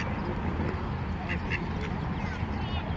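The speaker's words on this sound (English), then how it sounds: "the little duckies are right here" Ducks quack nearby in two short bursts over steady outdoor background noise.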